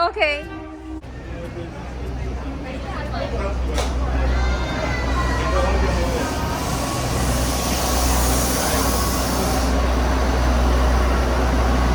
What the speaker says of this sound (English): So that's the famous train here. It's like a really old train and it's still functioning.